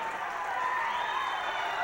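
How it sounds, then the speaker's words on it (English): An arena full of wrestling fans roars in a sustained, heavy wall of cheering and shouting, steady and loud throughout, with a voice buried in the din. "Oh, this crowd is going crazy."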